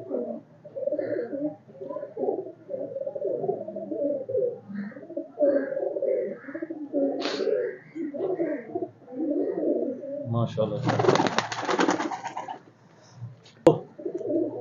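Breeder pigeons coo in steady, throaty, rolling phrases close by. A brief burst of hissing rustle comes near the end, and someone speaks once.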